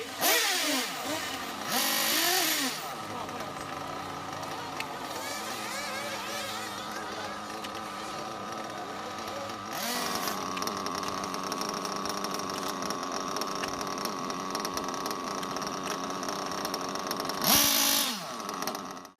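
Pneumatic wheel wrench on a race car during quick pit-style wheel changes, loud bursts of rattling impact whir at the start, around 2.5 s, at 10 s and near 17.5 s, with a steady engine-like drone between them.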